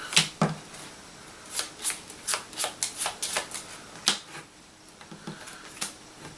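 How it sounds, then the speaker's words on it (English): A deck of Exploding Kittens cards being shuffled up close, a quick run of crisp riffling flutters and soft snaps in short bursts with brief pauses, no voices. "So what he's going to do is actually shuffle the deck."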